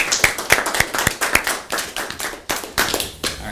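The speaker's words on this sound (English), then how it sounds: "if you wouldn't mind giving a round warm applause for Nate coming up." Audience applause, a modest group clapping unevenly with sharp individual hand claps, close and moderately loud, no talking.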